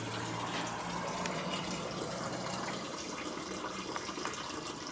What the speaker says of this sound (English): I think it's mostly just draining the radiator out and whatever's in this lower hose.